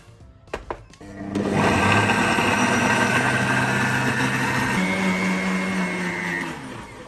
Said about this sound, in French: Après avoir écrasé nos 3 ingrédients, là-dedans, il y a de l'ail, il y a 2 oignons et il y a du gingembre.